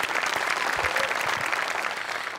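Studio audience applause on the Marathi comedy show Maharashtrachi HasyaJatra: loud, dense clapping from a full crowd runs steadily through the whole moment and tapers slightly at the end, with no one talking over it.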